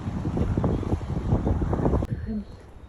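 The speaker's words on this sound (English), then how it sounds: "very windy." Strong wind buffets the microphone on a coastal clifftop above a cove in Gros Morne, Newfoundland, a loud continuous low rumble that cuts out abruptly near the end.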